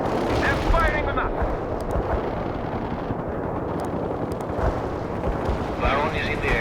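Gunfire and explosions in the war video game World in Conflict, a dense, continuous roar of battle with rumbling blasts and crackling shots, alongside radio-style voices speaking.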